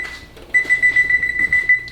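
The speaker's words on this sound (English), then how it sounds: "So we're gonna set that timer." A kitchen timer is set for a batch of baked beef flautas, giving a steady run of short, bright, repeated beeps or ticks close up and fairly loud, with no talking.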